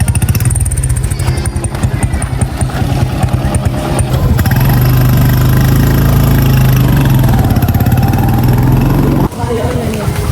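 A motorcycle taxi engine idles with a steady, loud, close rumble that runs through the whole stretch, with a brief dip near the end and voices mixed in underneath.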